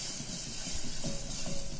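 A quiet, steady sizzle of food frying in a hot pan, with soft hissing and occasional stirring sounds.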